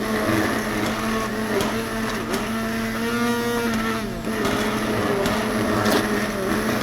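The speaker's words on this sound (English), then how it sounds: "Stick blender is really great for this." A stick blender whirs steadily, loud and continuous, churning thick potato soup right in the pot, with a slight dip in pitch near the end.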